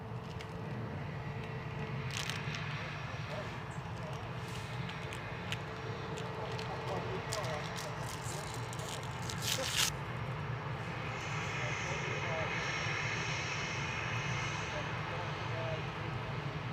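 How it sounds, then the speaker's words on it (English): Loganair Embraer ERJ 145 regional jet, registration G-SAJE, arriving at Manchester Airport from Aberdeen, a steady engine roar held at moderate distance for the whole stretch, with people talking over it. "ERJ 145 for Loganair"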